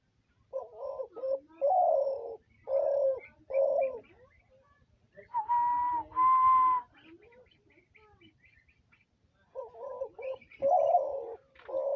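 Several hunting spotted doves give repeated cooing calls, short rhythmic bursts in clusters with a louder, more sustained pair of coos in the middle, close and clear against a quiet background.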